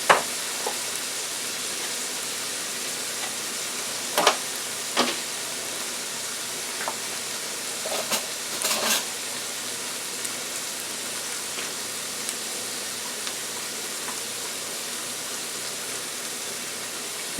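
Broccoli frying in a stir fry pan with onions, peppers and seasoning: a steady, even crackling sizzle like light rain, with a few sharper pops and clicks from stirring.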